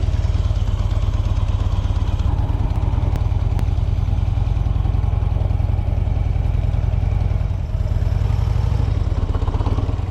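Several custom motorcycles ride off together on a country road run, their engines rumbling in a close, continuous low throb with clattering mechanical texture throughout.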